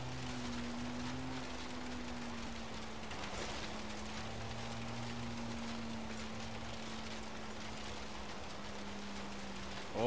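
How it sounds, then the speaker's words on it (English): Steady rain in the racing game Forza Horizon 3, a continuous hiss of falling drops over a low, droning car engine that holds a constant hum throughout. "Oh boy, it's raining."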